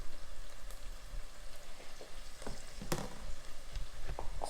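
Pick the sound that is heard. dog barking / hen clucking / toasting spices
toasting spices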